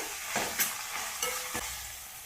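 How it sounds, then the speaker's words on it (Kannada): Onions and curry leaves fried over high flame for egg masala, stirred in a pan with a soft continuous sizzle and a few scraping strokes from a spoon, close by and with no voices. "ಒಂದು ನಾಲ್ಕರಿಂದ ಐದು ನಿಮಿಷ ಇದನ್ನು ಫ್ರೈ ಮಾಡ್ಕೊಳ್ತೀನಿ ನಾನು ಬ್ರೌನ್ ಕಲರ್ ಬರೋವರೆಗೂ"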